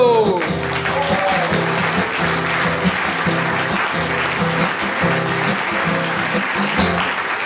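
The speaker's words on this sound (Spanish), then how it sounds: "¡Aplausos!" An audience applauds to welcome a singer and his band, loud dense clapping sustained throughout, with music playing underneath and repeated rhythmic beats.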